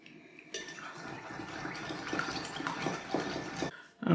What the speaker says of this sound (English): And whisk those together